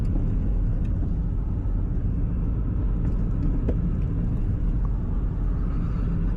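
A car pulls away with a steady low engine rumble as the driver gets back on the gas after coasting in second gear, a continuous near drone holding level throughout with no talk.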